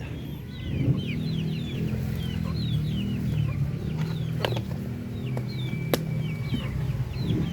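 Chickens and chicks cluck and cheep together close by, with a steady murmur of clucking and scattered high peeps over a low background hum.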